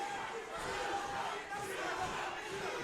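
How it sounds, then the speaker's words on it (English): A crowd at a Shamrock FC MMA fight roars and yells from its feet, a dense sustained wash of cheering that swells and dips at moderate distance. "Again, this crowd is on its feet."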